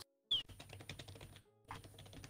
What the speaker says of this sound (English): I can hear every keystroke.